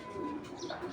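A low, faint coo comes from a club racing pigeon held up for show, a single brief murmur against quiet background noise.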